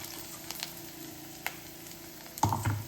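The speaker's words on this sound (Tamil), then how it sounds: "இப்போ இதில் நம்ம வெங்காயமும் வதங்கிடுச்சு" Onions frying in a pan for a Tamil-style chenna kulambu, with a soft steady sizzle and a few light stirring scrapes, growing louder near the end as the pan is worked.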